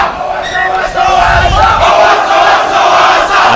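A loud rugby crowd in the stand roars and chants at an under-18 schools match as Millfield players wave them on, a sustained dense cheer with a brief dip near the start before it surges back.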